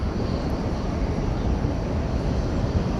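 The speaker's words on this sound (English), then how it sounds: "an EVA Air 787 coming in" EVA Air Boeing 787 airliner arriving at DFW Airport at night, heard as a steady broad roar of jet engines that stays constant throughout, with no talk.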